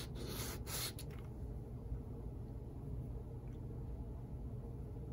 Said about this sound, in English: I'll just move it back and forth a bit on the sandpaper here to make sure that's as clean, flat, and smooth as possible.